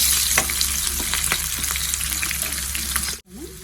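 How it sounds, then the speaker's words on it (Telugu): Onion pieces and dried red chillies fry in a pan for Rayalaseema-style mango dal, a loud, continuous crackling sizzle with scattered stirring clicks that cuts off abruptly near the end. "ఇందులో ఉల్లిపాయ ముక్కలు ఎండుమిర్చి ఎండుమిర్చి కాస్త కలర్ మారే వరకు వేయించుకోవాలి"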